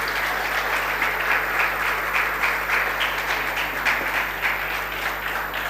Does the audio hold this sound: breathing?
no